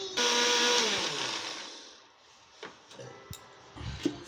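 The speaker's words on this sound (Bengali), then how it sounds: "তারপরে আমি মশলাটা বেটে নেব" A kitchen blender grinds biryani masala in a loud, dense whir that tapers off after about two seconds, followed by a few scattered clicks and taps.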